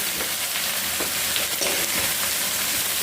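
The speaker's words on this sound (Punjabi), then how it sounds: "ਹੁਣ ਆਪਾਂ ਪਿਆਜ਼ ਪਾ ਲਈਏ" Chopped onions frying in hot oil, a dense steady sizzle that fills the whole moment, close and loud, with faint stirring beneath it.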